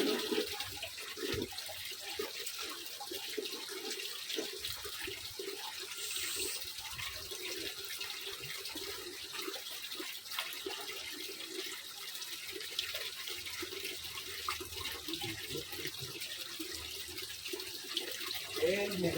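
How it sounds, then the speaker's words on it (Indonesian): Water from a hose runs in a steady, unbroken stream into a fish breeding pond, a constant mid-loud wash of splashing flow with no pauses. "Jadi usahakan air mengalir yang konstan."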